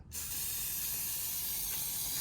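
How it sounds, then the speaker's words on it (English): Aerosol spray can of plastic dip coating the grille of a Chevy Tahoe PPV, a sharp click and then one continuous, close, steady hiss with no talking. "try not to stay in one spot and spray at one time"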